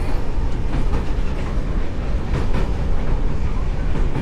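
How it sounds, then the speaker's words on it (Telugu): A train crosses the long sea bridge to Rameswaram with a loud, steady rolling rumble and a dense rattle of wheels on rails, heard close from on board. "కంప్లీట్ చాలాసేపు బ్రిడ్జ్ మీద నడుస్తుంది ట్రైన్."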